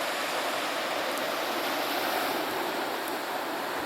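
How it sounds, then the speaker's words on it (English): Floodwater pours through Lock 25 at Mays Point during April river flooding, making a loud, steady, unbroken rushing roar that fills the whole span with no voices. "Water's just flowing right through here."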